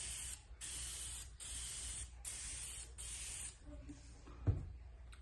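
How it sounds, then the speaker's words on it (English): Several bursts of aerosol spray coating onto a vinyl surface hiss in quick succession, each a light coat lasting under a second with short pauses between, close by, followed by a faint clunk. "I'm going to spray a nice light coat"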